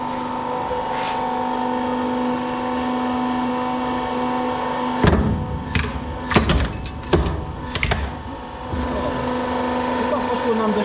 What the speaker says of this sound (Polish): Etap numer dwa: Rozwalanie obudów silnika.